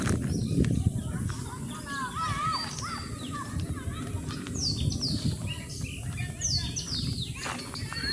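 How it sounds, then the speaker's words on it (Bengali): Birds chirp and call repeatedly in a rural village setting, with bright overlapping tweets over a steady rustling background and some low noise beneath. "কিছু পাখিতে খুব ডাকাডাকি করতেছে"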